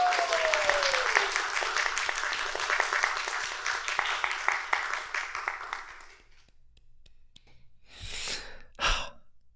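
A big round of applause fills the first six seconds, dense and steady with cheering mixed in, then cuts off, leaving near silence broken by two short, breathy bursts.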